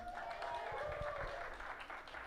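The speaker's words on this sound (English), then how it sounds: "Round of applause for Amrita, everyone." A small audience at a storytelling livestream event claps briefly. The soft, distant applause holds steady for a couple of seconds and carries a faint tonal hum.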